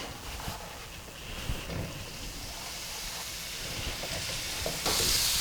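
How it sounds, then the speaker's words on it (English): Mushrooms sizzling in hot olive oil in a skillet, a continuous close hiss and crackle that swells slightly toward the end, with no talking. "I'm gonna throw in my mushrooms"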